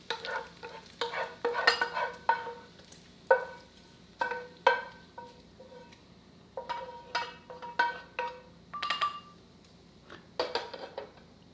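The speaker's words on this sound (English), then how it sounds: "now that our pancetta is looking nice and crispy, I'm going to go ahead and transfer it to this bowl to cool down" Crispy pancetta being scraped and lifted from a hot pan into a bowl, a run of sharp utensil scrapes and clinks repeating irregularly over a faint background sizzle, close and moderately loud with no talking.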